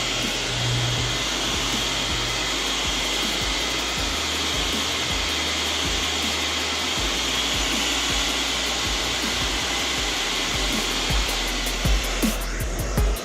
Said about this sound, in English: Just gonna heat up the 3M tape behind it so that it kind of sticks on there better.